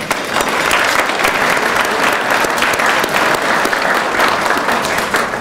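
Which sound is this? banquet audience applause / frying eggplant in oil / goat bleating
banquet audience applause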